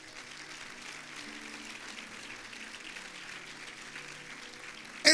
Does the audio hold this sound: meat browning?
no